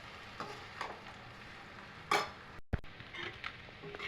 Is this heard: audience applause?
no